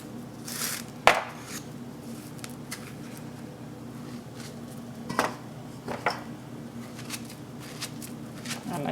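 A knife cuts through plantains in a kitchen, with a few sharp taps and scrapes against the board scattered over a low background hum.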